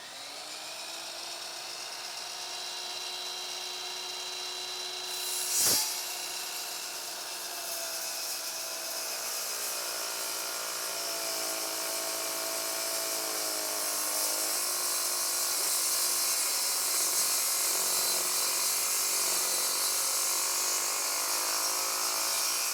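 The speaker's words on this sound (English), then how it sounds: "I'm going to ease off on my pressure on the saw because I don't want to bury my blade in the cut" A saw fitted with an aluminum-cutting blade slices slowly through aluminum under eased-off pressure, a continuous high-pitched whine and screech that holds steady and grows slightly louder, with a brief sharp knock early on.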